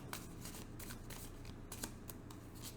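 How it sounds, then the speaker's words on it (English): A tarot deck shuffled by hand during a reading: repeated quick papery riffles and slaps at an uneven rhythm, close and fairly quiet, with no voice over it. "Well, one more shuffle."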